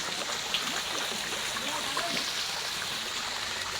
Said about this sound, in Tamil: ஃபுல்லாக ஊத்து.